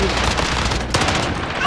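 Rapid gunfire in a multiplayer shooter video game, a loud, dense burst of overlapping shots and booms that fills the whole moment with no gaps.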